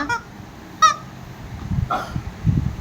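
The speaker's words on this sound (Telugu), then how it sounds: "కోడి బొమ్మ" A chicken-shaped squeaky pet toy gives three short, honking squeaks spaced apart, close by, with soft handling and rustling noises in between.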